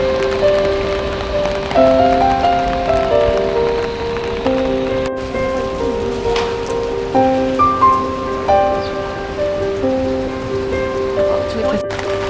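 Rain falls on a Zagreb street in Croatia on an early Sunday morning, a steady close hiss of drops on hard surfaces that carries through the whole stretch beneath prominent background music with sustained tones.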